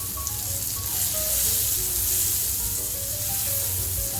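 A burger bun toasts lightly in butter in a pan at home: a loud, steady sizzle with small pops and crackles scattered throughout, heard close with no talking.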